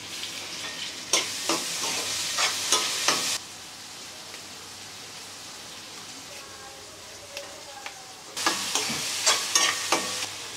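Tomatoes sizzle and fry in a pan during Sunday breakfast cooking, with two bursts of scraping stirring at the start and end and a quieter steady sizzle between, heard close.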